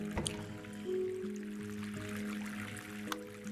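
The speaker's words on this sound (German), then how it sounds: "Oh, das war doch Wasser, was wir hier gehört haben." Water drips inside a house in the video game House Flipper, soft wet drops and a trickle over a low steady hum, close and moderately quiet.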